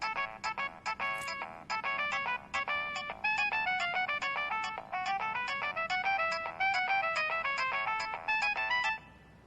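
A phone ringtone plays alone for about nine seconds, a bright electronic melody of rapid repeated notes in looping phrases, steady and fairly loud before stopping abruptly.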